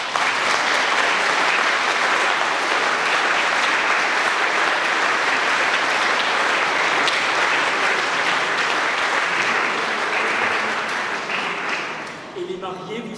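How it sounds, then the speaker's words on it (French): Wedding guests in a church applaud the newlyweds, a loud, full, reverberant wave of clapping held steadily for several seconds before thinning and fading out near the end. "et je crois qu'on peut encore les applaudir."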